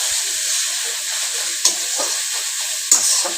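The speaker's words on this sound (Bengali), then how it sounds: "এখন এইগুলো অল্প ভাজা ভাজা করে নেই" Onion and pumpkin pieces fry in a pan with a constant bright sizzle, broken by a couple of sharp scrapes and clatters as a spatula stirs them, heard up close without speech.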